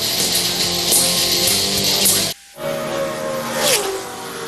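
A NASCAR Cup race car roars loudly during qualifying at Talladega as a steady engine drone, which cuts out for a moment and then returns with a falling pitch as the car passes.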